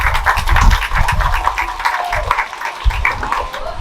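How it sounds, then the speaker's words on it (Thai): Loud, sustained clapping from a party crowd greeting the company chairman of Neo Winner as he comes up to open the evening's event; dense applause fills the whole stretch without speech. "ขอเสียงปรบมือให้ท่านประธานพงสันครับ"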